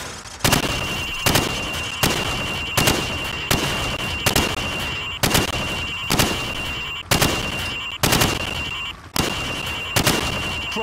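Gunshots fired at pop-up targets through wood on a training range in Call of Duty 4, about a dozen loud, sharp reports spaced roughly a second apart, each with a short ringing tail and no talking.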